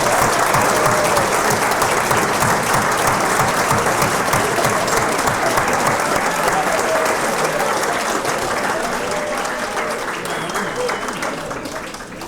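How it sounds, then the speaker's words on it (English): Warm applause from diners at an education hall of fame induction dinner, a dense, sustained roar of many hands clapping that slowly tapers near the end. "give Tony a warm round of applause"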